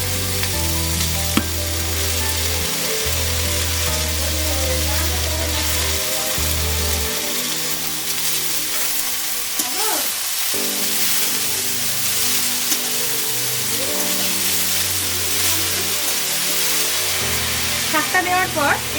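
Eggplant pieces and palong spinach sizzle and get stirred in a hot pan, a steady close frying hiss with occasional scraping, running throughout over low background music.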